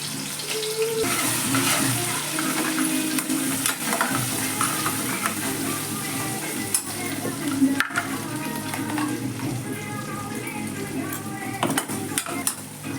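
Hot oil crackles as curry leaves, green chilli and peanut chutney hit the pan for a Navratri fasting vegetable dish, a loud sputtering sizzle with spoon stirring and utensil clinks throughout.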